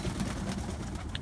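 Pigeons cooing indoors, a soft low murmuring coo that runs steadily throughout, quiet and close with no talking over it.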